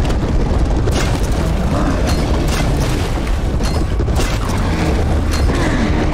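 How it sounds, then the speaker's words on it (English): Bodies bursting in the shooter game Serious Sam 4, loud repeated booming explosions layered over constant gunfire and chaotic battle noise, dense and continuous with no talk. "Oh my god, there's exploding bodies!"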